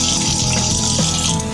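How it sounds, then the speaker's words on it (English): Tap water runs steadily over hands being rinsed of beet juice at a kitchen sink, a close, continuous splashing rush with no talk. "Let me wash off my hands because I'm getting beet juice all over everything."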